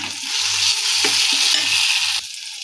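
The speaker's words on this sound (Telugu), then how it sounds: "కొంచెం చికెన్ మసాలా కొంచెం ధనియాల పొడి వేసుకొని మొత్తం కలుపుకోవాలండి" Chicken masala and coriander powder being stirred into a frying pan for a cauliflower and flat bean kurma, a loud, close sizzle with repeated rhythmic stirring strokes and a sharp knock near the end.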